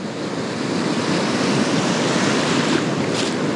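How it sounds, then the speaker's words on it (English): Ocean surf breaks on a California beach, a loud, continuous roar of waves with wind buffeting the microphone throughout. "I really like how these waves are forming right here"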